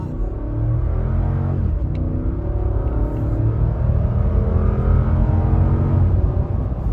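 A 2015 Lexus GX 460 with a 4.6-liter V8 pulls from a standstill toward 60 mph, its engine a steady low rumble heard from inside the cabin, rising gradually in pitch as it accelerates.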